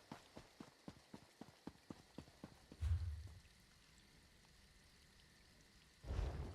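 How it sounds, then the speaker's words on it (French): Horse hooves clip-clop in a steady, evenly spaced run of about a dozen moderately loud hits, then stop; two heavy low rumbles follow after a quiet stretch, with no talking. "Un cheval, un cheval."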